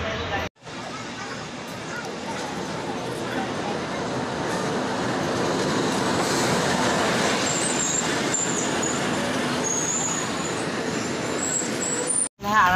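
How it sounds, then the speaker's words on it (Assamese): The Lumding–Alipurduar Intercity train draws near at a station, a broad rumbling roar building steadily and staying loud for several seconds, with faint voices in the background. "এইফালেদি আহি আছে আমাৰ ট্ৰেইন লামডিং আলিপুৰদুৱা ইণ্টাৰচিটি"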